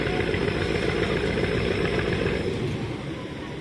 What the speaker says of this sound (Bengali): আসলে ব্যাক গিয়ার দিয়ে দিবে প্রিন্স সাকিন